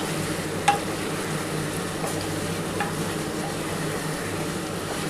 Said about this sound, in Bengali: এবার আদা রসুনটার সাথে ভালো করে একটুখানি কষাতে হবে।